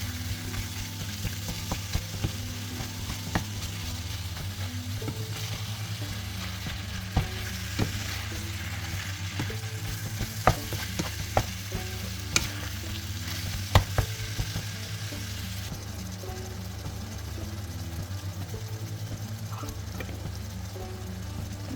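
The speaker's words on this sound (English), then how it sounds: "I'm just going to break down the beef into small pieces and cook until it's nice and golden brown" Ground beef fries in a pan with a steady sizzle and a low hum, while a spatula breaks it up with scattered taps and scrapes that bunch up in the middle; nobody speaks.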